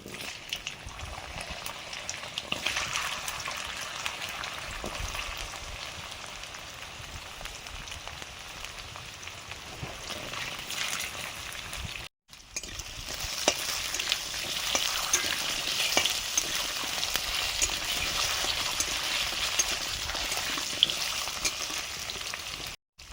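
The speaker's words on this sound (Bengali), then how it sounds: "পাঁচ ফোড়ন, এবারে দিচ্ছি কচু," Taro pieces sizzle and fry in hot oil with five-spice seeds in a pan, a steady dense crackle that continues throughout with stirring, briefly cut off midway and then resuming.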